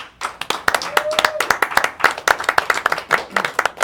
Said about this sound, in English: A round of applause for Isaiah.